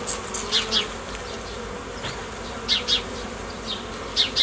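Honeybees swarm over a hive frame during hive work, a dense steady buzzing close by, with louder passes as single bees fly near.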